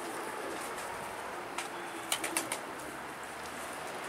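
A few quick wing-flap bursts as pigeons are let go, clustered in the middle of the stretch and fairly close, over a steady background hiss with no talking.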